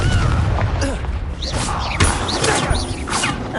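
Repeated blasting spell explosions from Hogwarts Legacy thump and crackle loudly in quick succession amid combat clatter and whooshes, with a voice speaking over the din.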